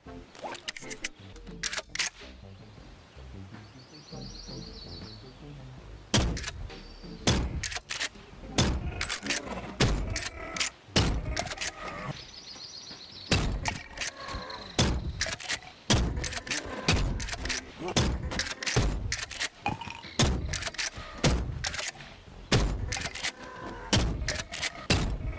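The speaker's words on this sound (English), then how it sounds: "another pump action shotgun" Repeated sharp gunshot blasts from a 590A1 pump-action shotgun in the VR game BoneLab, loud, close and spaced a second or so apart with brief gaps between shots and no talking.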